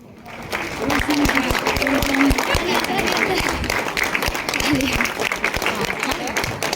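Applause from an audience fills a college hall at an inauguration ceremony in Ranchi, steady and sustained for several seconds, with crowd murmur and some voices mixed in.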